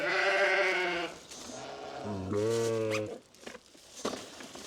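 Lamb bleating on a farm, two drawn-out wavering bleats heard close by, the second lower and steadier, followed by quieter shuffling and faint background sounds.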